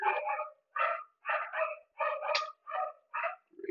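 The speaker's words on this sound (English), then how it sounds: "Probably hear my dog. My kids are playing with him." A pet dog barks and yips in short, lively bursts while children play with it indoors, roughly eight clear barks in an uneven rhythm, close and fairly loud with quiet gaps between.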